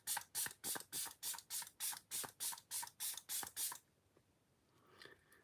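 A rapid run of about a dozen short, evenly spaced bursts of a d'Alba face serum spray close by, then they stop, leaving a faint rustle.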